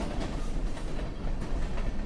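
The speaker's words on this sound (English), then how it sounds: "Can you hear that? A train." A passing train rumbles steadily and fairly close, with a dense, continuous rolling roar and a faint rhythmic clatter from the rails running throughout.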